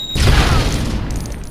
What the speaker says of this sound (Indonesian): ya baik-baik saja walaupun sudah kena ledakan bom